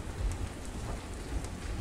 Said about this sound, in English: It's fucking rain.